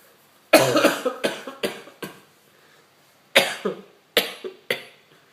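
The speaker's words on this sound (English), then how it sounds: "I've been coughing like this for like," A run of harsh coughs in two bursts, several quick hacks each, close and loud with brief quiet between.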